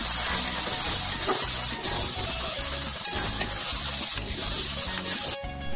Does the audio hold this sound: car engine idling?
no